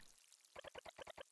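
A potted tomato plant being watered in the video game Eastward, a faint run of seven quick bubbly pouring blips in even rhythm, alone without talk.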